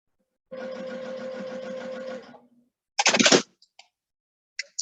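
Sewing machine stitching hourglass quilt blocks, one steady run of about two seconds with an even buzzing hum, close and clear, followed by a brief scrape of fabric handling and a few faint clicks.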